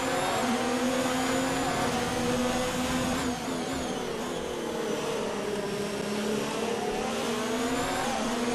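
F1 2019 race car engine in the video game pushed to the limit, a sustained high-pitched whine with pitch wavering as revs rise and dip, steady and alone without talk.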